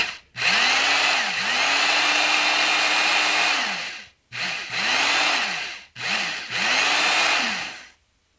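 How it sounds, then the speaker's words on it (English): A Black & Decker corded electric drill whirs in three runs, one long and two shorter, with brief pauses and spin-down between them, loud and close. "we've got this Black & Decker corded drill."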